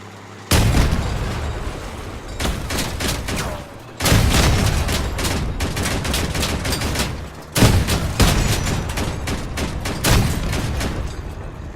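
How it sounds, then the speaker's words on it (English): Cannons on a heavy armored vehicle in the combat game Crossout fire three times. Each loud, booming blast is followed by rattling bursts of gunfire and explosions. "it has got a lot of recoil when all three cannons fire"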